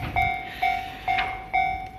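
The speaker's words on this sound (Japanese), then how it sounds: "5万系来た、5万系" A level-crossing warning bell at the Hibarigaya crossing on the Tobu Tojo and Saikyo lines rings in steady, evenly spaced, piercing tones, as a Tobu 50000 series train approaches through the busy crossing.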